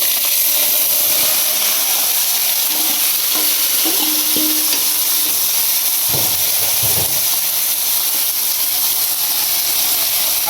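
Food frying and being stirred in a pan in a home kitchen, a constant loud sizzling hiss with occasional scraping knocks of a utensil against the pan.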